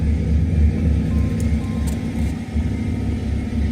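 Nissan S14 drift car at a drag-racing event, its engine holding a steady loud low rumble close by, with no talk over it.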